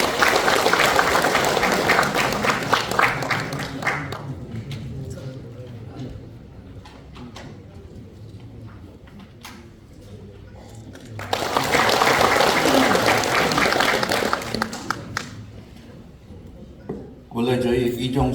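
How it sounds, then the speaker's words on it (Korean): An audience applauds a vice-president arriving to give a congratulatory address at a ceremony, with a full burst of clapping at the start, a quieter stretch of talk, then a second strong round of applause. "큰 박수로 맞아주시면 감사하겠습니다"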